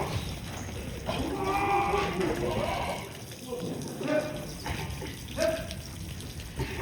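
Sheep or ram bleats on a goat farm, several short calls rising over steady running water and background talk, moderately close.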